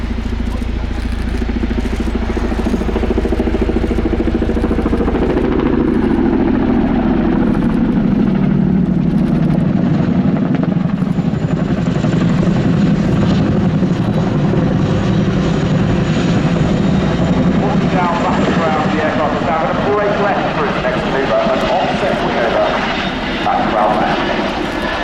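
A Royal Air Force Boeing Chinook HC6 twin-rotor helicopter flying a display at RIAT 2022 air show, a loud, steady rotor and engine roar that holds throughout, shifting slightly as it moves, with no speech.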